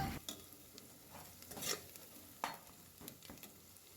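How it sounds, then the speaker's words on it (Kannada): Onion, ginger garlic paste, coriander and mint fry for palav in a pan, giving a faint sizzling hiss broken by a few scraping stirs and soft knocks of a spoon. "ಇದನ್ನು ಸಹ ಫ್ರೈ ಮಾಡ್ಕೊಳ್ತಾ ಇದ್ದೀನಿ"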